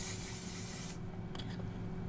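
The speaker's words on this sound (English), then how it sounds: "I'm gonna put on my one size spray before I apply my lashes" A one-size setting spray misted onto the face during makeup: a steady broadband hiss for about a second, then a few short, softer spritzes nearby.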